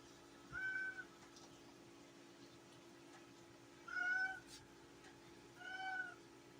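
Three clear meows, each about half a second long, come from a small cat named Tank in a kitchen where browned hamburger meat is cooking. A steady low hum runs underneath.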